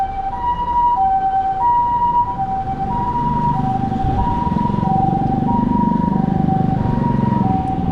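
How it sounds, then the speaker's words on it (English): A nearby two-tone ambulance siren from a Toyota Hiace van ambulance in Japan alternates in a steady hi-lo pattern over the rumble of a passing vehicle and road traffic. "Look at this ambulance."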